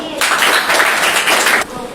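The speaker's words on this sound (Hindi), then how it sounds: "ताली बजा" Students in a classroom clapping together, a brief burst of applause lasting about a second and a half, fairly close and steady before stopping abruptly.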